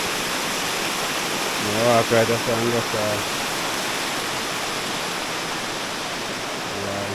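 A waterfall on a Jamaican river pours down in a steady, loud broadband rush that runs the whole way through, with someone speaking briefly over the roar partway in.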